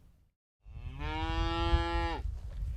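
A cow gives one long, loud moo close by at a livestock operation, rising then dipping at the end, over low rumbling background noise.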